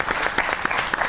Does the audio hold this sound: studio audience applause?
yes